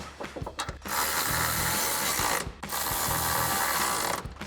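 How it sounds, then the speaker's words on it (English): A ratchet with a 13mm socket tightens bolts on a running board bracket of a 2024-2025 Toyota Tacoma. It makes two long, loud, steady bursts of close rapid clicking, with a brief pause between them. "grab our ratchet and 13mm socket and tighten those 2 down"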